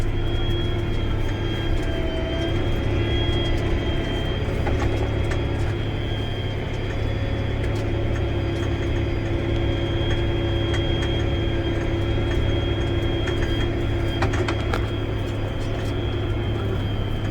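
A Fendt 1167 tractor engine runs steadily while the tractor drives along a two-track, producing a continuous droning hum with a few faint ticks and rattles and no talk.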